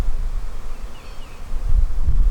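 A low, steady buzzing of a swarm of honeybees leaving a hive, mixed with breezy outdoor noise, rising slightly toward the end.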